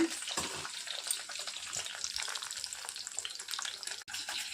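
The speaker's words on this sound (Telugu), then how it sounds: "చట్నీకి హై ఫ్లేమ్లో పెట్టుకొని వేయించుకోవాలి." Cut chillies sizzle in hot oil over high flame in a pan for chutney, a steady bright crackle throughout with a brief clatter near the end.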